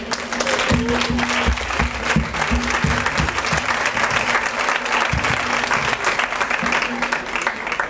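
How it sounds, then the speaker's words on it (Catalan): Audience at the third Premi Valor award ceremony breaks into sustained applause, a thick, continuous crackle of many hands that stays loud and steady, with a low humming tone running underneath. "Per tot això, aplaudiu, aplaudiu."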